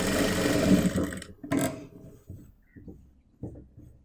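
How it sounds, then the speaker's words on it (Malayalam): A sewing machine stitches the neckline of a churidar top, starting from the shoulder, with a close whirring run that fades out, followed by a few soft handling knocks. "ഷോൾഡറിൻ്റെ ഈ ഭാഗത്തു നിന്ന് സ്റ്റിച്ചിങ് ഇതുപോലെ സ്റ്റാർട്ട് ചെയ്ത് കൊണ്ടുവരിക"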